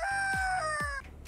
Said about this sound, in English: They named the fragrance after the sounds of a rooster.